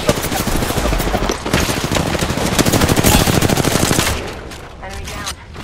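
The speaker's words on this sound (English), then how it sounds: "Taking shots." Rapid, dense automatic gunfire from the video game Apex Legends, loud and sustained for about four seconds before easing into lighter shots and trailing echoes.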